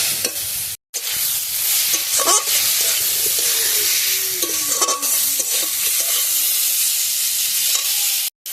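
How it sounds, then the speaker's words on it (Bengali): Masala sautéed with a little water in a hot pan: a loud, continuous sizzle and hiss with repeated scraping strokes of the spoon, and one very brief gap near the start. "অল্প একটু জল দিয়ে ভালো করে কষিয়ে নেব, তাহলে মশলাটা পুড়বে না।"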